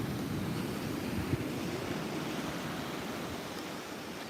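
Ocean surf rolls onto Muaro Bayang beach in the morning, a steady, broad wash of waves with wind rumbling across the microphone and no voices.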